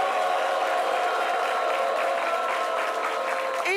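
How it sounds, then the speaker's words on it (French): A studio audience at a French talk show claps loudly and steadily throughout, a dense and sustained applause with no voices over it. "On les applaudit très fort."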